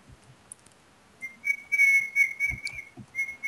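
A person whistles a steady, sustained tune in short held notes, moderately close, with a few faint knocks and thumps underneath during a game of Transformice racing.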